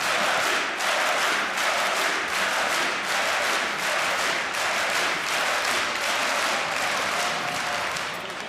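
A large esports crowd at DreamHack Winter in Jönköping, Sweden, roars during a Counter-Strike grand final, with dense sustained applause and cheering that fills the hall steadily without letting up.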